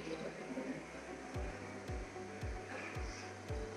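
DC series motor running under load on a test bench, giving a steady whirring hum with several regular low thumps spaced about half a second apart, heard close and fairly faint.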